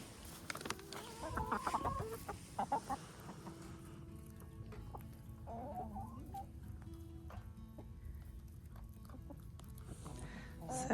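Rhode Island Red hens cluck and chatter in a backyard flock, close by and fairly soft, with brief bursts of louder calls early on over a low steady background.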